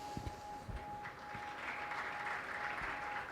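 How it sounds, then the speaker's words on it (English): An audience at a panel discussion on sustainable cities claps. It starts with a few scattered claps and builds into soft, fairly distant applause, with a faint steady tone in the background. "That clap was for you."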